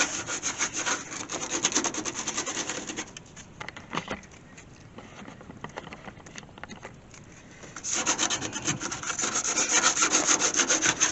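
Rapid back-and-forth rubbing as rust spots on a Gremlin car body are scuffed up by hand, loud and rhythmic at first, easing off for a few seconds, then returning with brisk strokes.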